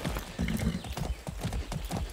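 Horse hooves clip-clop in the video game Far Cry 6, a quick rhythmic series of close hoof strikes over a soft background.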